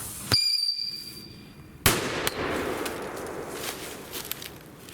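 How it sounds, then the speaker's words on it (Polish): An Uzi firecracker goes off outdoors: one sharp bang, then a second louder blast followed by a crackling burst of smaller pops and a fading rumble. "petarda Uzi."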